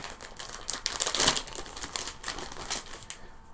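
Protective plastic film peeled off Dwarven Forge Caverns Deep terrain trays and whirlpool overlays, giving close, crisp crinkling and tearing that swells briefly, then trails off into softer rustles.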